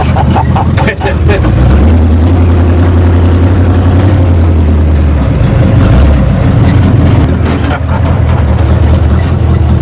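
An old car engine idles and revs loudly, with a low droning hum and rattling noises throughout.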